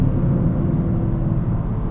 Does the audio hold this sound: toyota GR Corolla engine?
yes